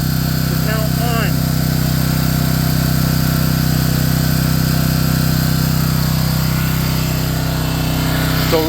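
A home standby generator engine idling with its idle control switched on, a loud, steady, even drone that holds unchanged throughout.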